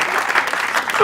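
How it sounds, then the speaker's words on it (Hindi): A studio audience at a television talk show breaks into brisk, continuous clapping, with a voice speaking over the applause. "तालियां, और तालियां"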